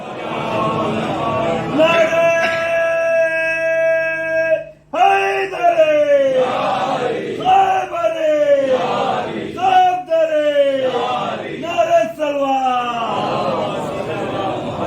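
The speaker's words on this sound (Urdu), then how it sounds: "ایک اور صلوات بھیجیں بابا سے بلند محمد والے" A large crowd at a Muharram majlis in Kolkata loudly chants salawat in unison, with repeated rhythmic surges of many voices filling the space.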